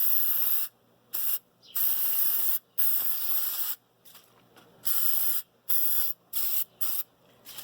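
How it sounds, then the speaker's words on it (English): Aerosol spray cleaner blasted onto a die-cast Matchbox toy bus during restoration, a series of loud, sharp hissing bursts of varying length separated by brief silences. "Definitely want to spray this stuff outside"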